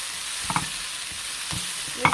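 A medium-sized tomato and a couple of curry leaves with onion fry over a low flame, a soft steady sizzle broken by a few close spoon scrapes and clinks in the pan, no voices.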